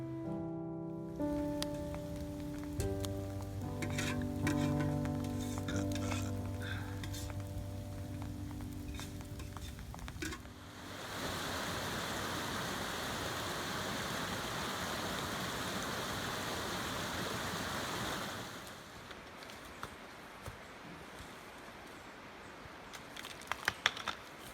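Light rain patters steadily at night beside a campfire on a multi-day mountain traverse in Taiwan, a soft continuous hiss that follows an earlier tonal passage and then fades out.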